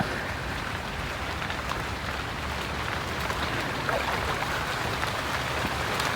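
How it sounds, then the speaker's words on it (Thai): Steady rain falls outdoors at a hidden spot where betta fish are being caught, a continuous dense hiss of drops at constant loudness with no voices over it. "ฝนตกแล้วครับพี่น้อง"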